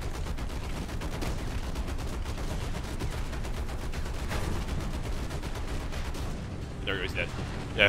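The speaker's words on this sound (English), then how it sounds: "Yeah, I finished him off with my machine gun." Sustained machine gun fire in the tank combat game War Thunder: dense, rapid bursts rattle continuously at close range for several seconds before easing off near the end.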